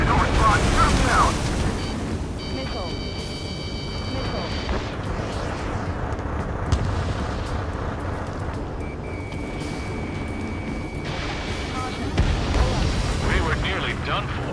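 Rumbling missile blasts and heavy booms roll on through a fighter-jet battle in Ace Combat 7: Skies Unknown, Mission 16 Last Hope, with radio voices talking over the din.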